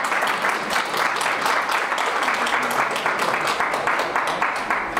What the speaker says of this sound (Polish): I wielkie brawa dla całego.